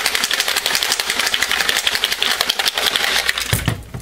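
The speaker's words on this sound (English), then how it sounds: "Let me give this a really good shake." Rapid, vigorous rattling of a container being shaken hard, continuous and loud for several seconds before it stops.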